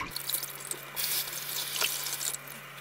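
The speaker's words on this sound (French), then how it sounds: "on rince jusqu'à ce que l'eau soit claire" Cyanotype-printed fabric is rinsed under a running tap in a sink, with splashing and dripping water that swells and fades as the cloth is moved, close and without talking.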